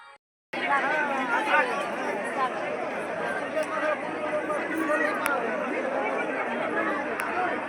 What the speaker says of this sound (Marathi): ही गर्दी बघा खूप खूप गर्दी दर्शन लाईनमध्ये होती